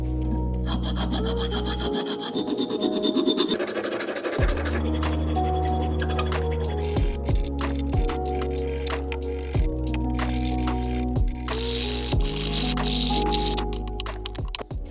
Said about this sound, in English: I just wanted to file the center and this pulley to make sure these would go together